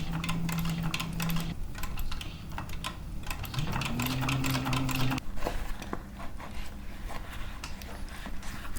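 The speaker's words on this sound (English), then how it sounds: "Then proceed to stitch the flaps, creating the double exotic stitch on the main body." Stitching leather bag flaps with a double decorative stitch, heard as rhythmic mechanical clicking and tapping with brief motor hums, close and moderately loud, no talk.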